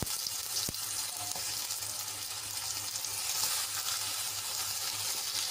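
Tomatoes sauté in a pan with a soft, even sizzle and light crackle, plus one sharp tap near the start.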